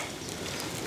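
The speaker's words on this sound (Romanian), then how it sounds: "Ne-a prins puțin ploaia" Rain falling during a mountain hike on Toaca Peak in the Ceahlău Mountains, a dense, even hiss of drops on surfaces close by, steady and moderately loud with no talking.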